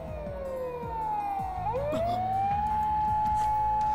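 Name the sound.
police siren in video game Steins;Gate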